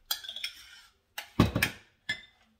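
A utensil stirs mustard into homemade BBQ sauce, clinking against the bowl in a few short, separate scrapes and taps, close and moderately loud, with quiet gaps between them.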